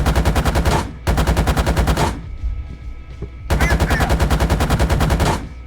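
A BMP-2's 30mm autocannon fires in a video game, loud and close in two long rapid bursts, with a short pause and a mechanical clank between them.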